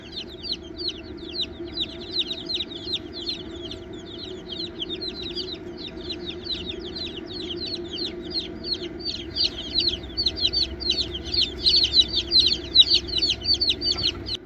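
Baby chicks in a brooder cheep in a steady, dense chorus of high peeping that grows busier and louder toward the end, with no voices over it.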